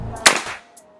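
A single sharp, close shot from a Predator Bocap GL PCP air rifle cracks with a quick hiss and a brief fading ring afterward.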